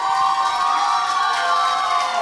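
An audience at a wedding dance contest cheers loudly for the girls, a dense, continuous wall of crowd shouting and clapping with music underneath.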